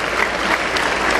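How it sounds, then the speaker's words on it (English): Parents give a loud, dense round of applause for their children graduating as dentists at the S Nijalingappa Institute of Dental Sciences ceremony in Kalaburagi, a close, continuous burst of clapping with no speech over it. "I request all the parents to give a round of applause to your children"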